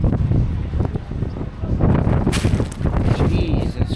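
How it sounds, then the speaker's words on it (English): Strong wind buffets the microphone of a cyclist on a hot road during the Transcontinental Race in Türkiye, a constant loud roaring gust that swells and dips throughout. "Jesus Christ, this wind."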